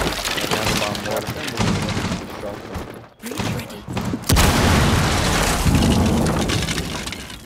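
Breaching charge blasts in Rainbow Six Siege, heavy booms and cracking debris bursting loudly around a short pause, with players talking over the action.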